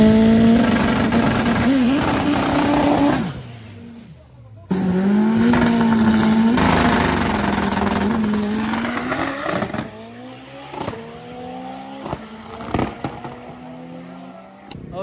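A 4x4 Volkswagen Gol rally car with an 8-valve engine revs hard and close, with sweeping rises in pitch, a brief cut-off, then repeated sharp blips and climbing revs.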